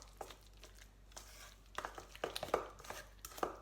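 Spoon stirring chickpea omelette batter made with aquafaba, giving soft irregular scraping and tapping strokes against the bowl, close and fairly quiet, with busier clinks toward the end.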